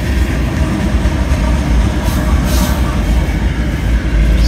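A southbound CSX mixed manifest freight train rolls past on track two with a steady, loud rumble and faint wheel clatter and squeal throughout.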